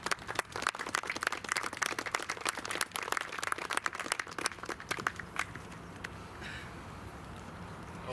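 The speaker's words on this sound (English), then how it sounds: "Let's have a round of applause for the Color Guard." An audience claps loudly and briskly for a color guard at a patriotic ceremony, with the applause thinning out toward the end to quieter scattered claps and room noise.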